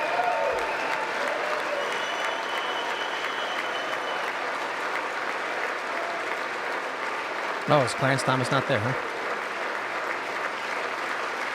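Lawmakers in the House chamber applaud at the 2026 State of the Union address, a sustained, even wash of clapping that runs throughout, with a nearby voice briefly speaking over it.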